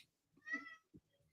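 A house cat gives a single short, clear meow up close, followed by a faint soft thump in a quiet indoor room.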